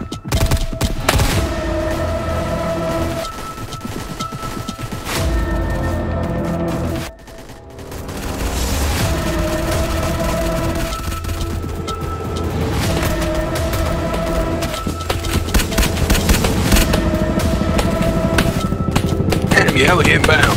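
Sustained heavy gunfire from the Blackhawk Rescue Mission 5 video game, dense overlapping bursts and thuds with a brief lull, under shouted squad callouts during a raid.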